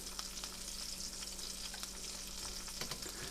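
Asparagus pan-searing in a small amount of oil, giving a steady close sizzle and crackle with no talking.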